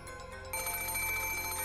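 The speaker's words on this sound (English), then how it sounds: "the ring of the phone, which had once sounded like a scream for help" A telephone ringing in the Umineko visual novel, its electronic bell trilling steadily against a background music bed, the ring growing louder and fuller partway through with no talking.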